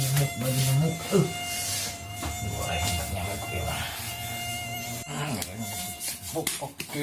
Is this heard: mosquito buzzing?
yes